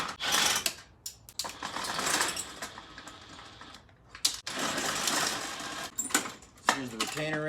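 A Phillips head screw comes out of the headlight retainer ring on a Jeep Comanche MJ, a close, uneven series of whirring, clicking driver bursts with brief pauses between them.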